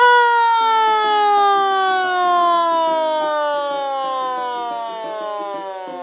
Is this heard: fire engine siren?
yes